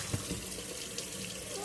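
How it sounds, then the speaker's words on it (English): Boiled pasta being drained into a kitchen sink: a continuous rush of pouring, splashing water, close and steady, with no voices. "So I'm going to go ahead and drain the pasta."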